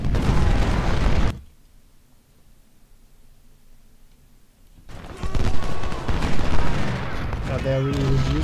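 Artillery and musket fire from the Civil War strategy game Ultimate General, at the Battle of Gettysburg: loud booming volleys and crackling shots, then a near-silent pause of several seconds before dense gunfire resumes. Voices talk over the battle.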